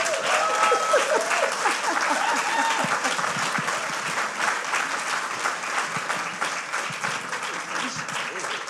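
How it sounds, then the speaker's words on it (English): Sustained audience applause fills a lecture hall after a professor's introduction, dense steady clapping that stays loud throughout and eases slightly toward the end. "Can we give Professor Eiffel another round of applause?"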